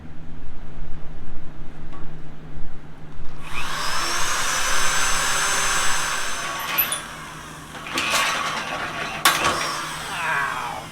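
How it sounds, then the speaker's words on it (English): A power drill bores into scrap metal for a gantry crane build, a loud whining grind that starts a few seconds in and holds steadily, with a low hum running underneath throughout. "that means a lot of drilling."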